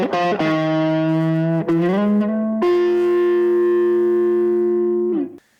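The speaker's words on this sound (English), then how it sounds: "In the middle position, the neck pickup alone works with tone control, giving awesome throaty tones." A 1959 Fender Telecaster plays on its neck pickup in the middle switch position with the tone control in circuit, giving a loud, sustained, slightly overdriven tone. Three long chords ring out, the last held for several seconds before being cut off.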